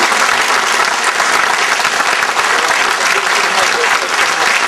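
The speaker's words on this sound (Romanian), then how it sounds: "vă rog să-l aplaudați" An audience at a traditional folk music event applauds loudly and steadily, a dense wash of clapping from many hands that continues unbroken throughout.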